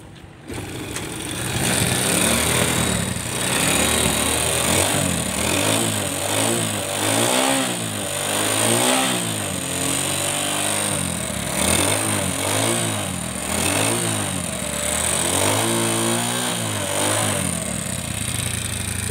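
A Kymco Visar 110 scooter engine with piston and piston ring trouble idles and revs continuously nearby, its loud, pulsing putter rising and falling with no talking.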